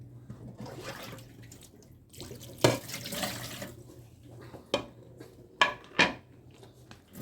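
A lobster, previously soaked in vinegar and salt water, is rinsed under a running kitchen tap, with steady splashing water and a few sharp clinks of dishes or utensils against the sink.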